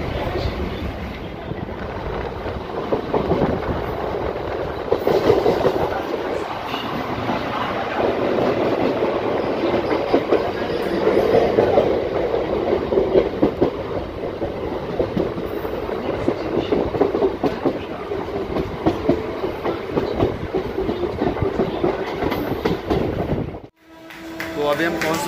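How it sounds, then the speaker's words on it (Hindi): A moving commuter train in Mumbai heading into Goregaon, heard from inside as a loud, steady rumble with rhythmic clickety-clack of the wheels on the rails, continuing nearly unbroken before a brief dip near the end. "ये ट्रेन हमारी चल रही है"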